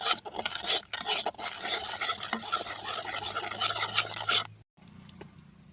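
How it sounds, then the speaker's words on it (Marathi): Spices and homemade red chili powder for an amla pickle are stirred together, a close gritty scraping and rubbing that runs continuously and then stops abruptly near the end, leaving a faint hum. "तर मिक्स करून घेऊया आपण."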